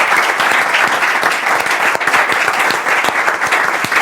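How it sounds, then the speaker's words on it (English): Loud, dense applause from an audience honoring the doctors, a continuous crackle of many hands clapping close by, sustained at a steady level throughout with no speech. "the doctor deserves a round of applause"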